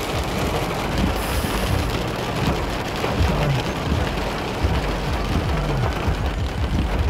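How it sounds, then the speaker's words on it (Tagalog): Heavy rain falls in a loud, steady wash of hiss and spatter, close and continuous, with no voices. "Lakas ng ulan."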